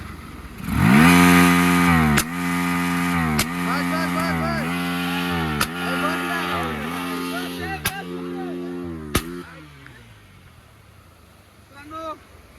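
An NS 200 motorcycle engine roars up and is revved repeatedly, loud and close, each rise in pitch broken by sharp gear-change drops before it fades to idle; people talk nearby.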